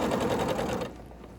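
A sewing machine stitching two fabric pieces together along a 5/8-inch seam, a fast steady mechanical whir up close that slows and fades near the end.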